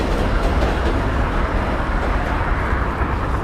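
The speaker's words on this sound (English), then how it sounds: "you also kind of get used to the trains passing by" A loud, steady rumble of a train passing nearby in New York City fills the whole stretch, constant and unbroken.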